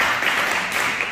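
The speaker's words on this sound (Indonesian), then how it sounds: "Tepuk tangan dong buat Tuhan." Church congregation applauding during a Sunday worship service, a brief, loud, continuous spatter of many hands clapping at once.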